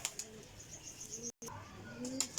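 Pigeons of a Sialkoti crested breed give soft coos and chirps with bursts of wing flapping, close by, under a steady loft background with a brief dropout midway.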